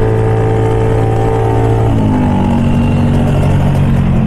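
A Kawasaki Ninja RR motorcycle engine runs loud and close, a buzzy droning tone that shifts pitch partway through as the revs change.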